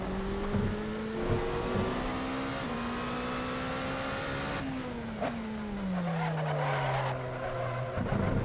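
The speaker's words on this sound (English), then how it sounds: "Love the sound of both fronts trying to lock up at the same time." Racing car engine whining through gear changes in a racing video game, with sharp tire squeals as both front wheels nearly lock under braking, loud and close, no talking.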